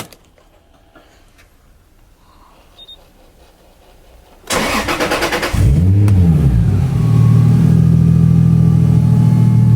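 Quiet at first, then a starter cranks and a fully warmed-up car engine at a Japanese auction house catches, revs briefly, and settles into a loud, steady close-up idle.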